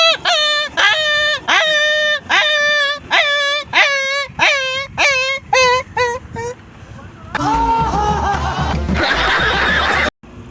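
A human voice mimics a puppy whimpering and yelping, a run of about a dozen short, rising whiny cries in quick succession that ends in a louder, rougher burst of strained yelps.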